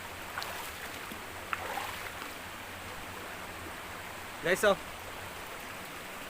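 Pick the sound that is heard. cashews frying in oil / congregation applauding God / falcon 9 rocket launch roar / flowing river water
flowing river water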